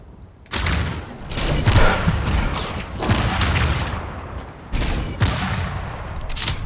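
Rapid gunfire from the video game Tribes 3: Rivals, loud bursts of shots and impacts firing almost continuously, with sharp louder blasts near the start, around two seconds and near five seconds.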